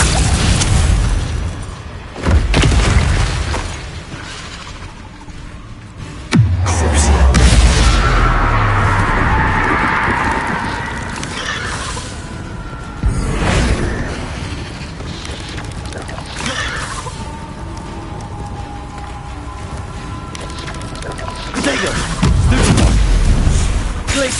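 Loud, repeated booms and crashing blasts from spell explosions in the PS5 game Hogwarts Legacy, heavy impacts spaced every few seconds over rumbling debris and action noise.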